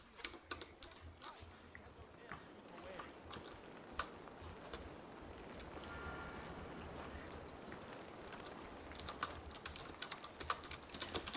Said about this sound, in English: Okay, so the keyboard is working.